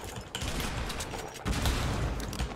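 Pump shotgun fire in a video game, loud dense bursts of gunfire crackling continuously with a sharp surge partway through, no voices.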